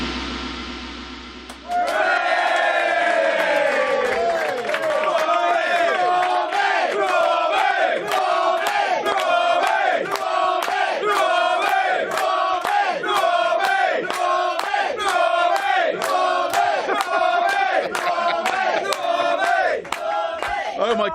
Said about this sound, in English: Oh my goodness, hello capacity crowds. Fantastic, the battle of the stands.